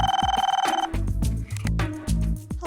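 An electronic telephone bell rings in a rapid trilling burst, then gives way to a low plucked musical sting, loud and close with no talking.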